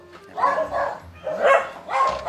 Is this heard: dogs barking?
yes